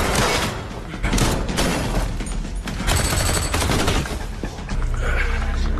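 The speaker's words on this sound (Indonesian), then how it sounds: "Sayangnya dalam duel ini Ahab kalah adu tembak dengan Markus." Gunfire from a gunfight in the film Take Point: rapid, dense bursts of shots and booms, loud and continuous with short pauses, no talk.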